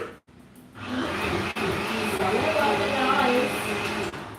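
A loud, steady motor whir of a kitchen blender blending coconut runs close by after a brief pause, with a short dip partway through.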